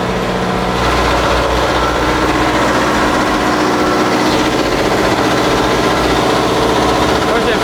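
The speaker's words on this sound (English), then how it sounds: "This is our engine room here. We have 3 different motors." Three motors running together in a shrimp boat's engine room make a loud, steady, droning roar with a constant mechanical hum and rattle, close up and unbroken throughout.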